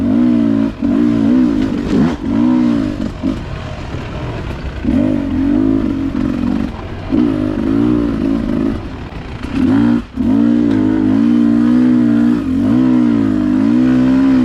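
A Beta 300RR dirt bike ridden in third gear along a trail, its engine droning loud and close with a steady buzzing tone that wavers and briefly dips.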